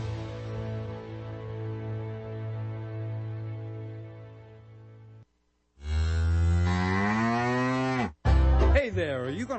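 Cows mooing loudly in a radio advertisement, a long sustained low moo followed after a short gap by two more drawn-out moos with rising and falling pitch, close and clear.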